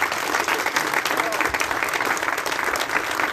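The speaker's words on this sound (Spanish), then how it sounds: "les pido un fuerte aplauso para nuestro gobernador" A steady burst of audience applause for the state governor at a silo handover ceremony in La Gavilana, Pénjamo, dense clapping from a crowd held at an even level throughout.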